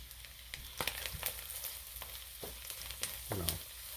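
White onion frying in a hot wok for spam fried rice, a steady quiet sizzle broken by scattered clicks and scrapes of stirring, with no talk.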